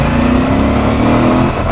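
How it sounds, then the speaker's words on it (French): A 2019 Moto Guzzi 1400 Audace Carbon motorcycle accelerates on an Italian road, its engine droning loud and close with a steady, rising tone throughout. "il va falloir accélérer là"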